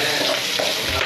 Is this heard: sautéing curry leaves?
yes